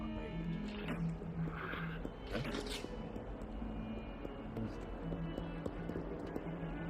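Horse hooves clip-clop in the Hogwarts Legacy video game, a faint steady rhythmic trotting mixed with ambient game sound and soft background noise.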